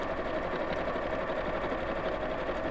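A sewing machine stitches a tote bag strap with a steady, continuous whirring hum that holds an even pace throughout, close and loud with no pauses.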